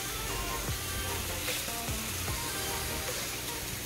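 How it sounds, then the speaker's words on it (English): Lime pickle simmering on a slow flame gives a soft, steady sizzle and bubbling, faint and continuous, with a few light stirring scrapes scattered through. "Let the lime cook in slow flame for about 10 minutes till it's half cooked"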